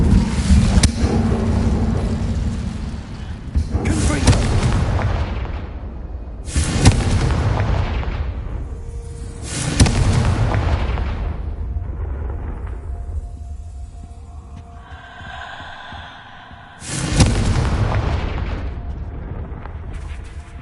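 Repeated Confringo blasting spell explosions from the Hogwarts Legacy video game: five loud, booming bursts spaced a few seconds apart, each with a sharp onset and a long rumbling tail, plus some faint tonal game sounds between them.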